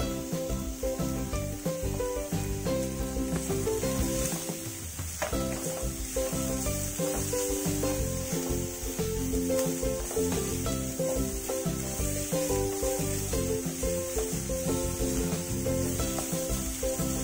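Capsicum, cabbage and ginger frying in a pan on an Indian home stove, giving a steady, dense sizzle with occasional stirring scrapes, running continuously under light background music.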